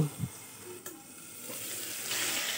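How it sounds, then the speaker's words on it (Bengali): Potato and pointed gourd pieces fry in a pan, giving a soft, brief sizzle with a light stirring scrape, quiet and close with no talking. "আলু পটল আমার ভালো মতোই ভাজা হয়ে গেছে"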